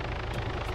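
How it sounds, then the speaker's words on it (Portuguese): A brief burst of a helicopter in the game Arma 3 gives a steady, low rotor rumble with a faint pulsing beat, heard alone. "Helicóptero aqui, gente."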